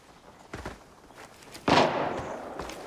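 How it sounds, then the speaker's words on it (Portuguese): Distant scav gunfire in Arena Breakout, a few soft pops early on and then one sharper, louder shot with a short echoing tail, heard alone without talk. "Ó, o Skev tá atirando em alguém lá"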